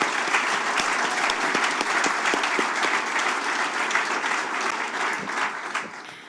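An audience at a grand opening gives a round of applause for the task force board members, a loud, close, sustained clatter of many hands with distinct sharp claps, easing off slightly at the end.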